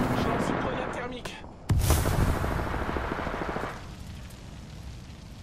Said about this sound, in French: Je lance une grenade thermique.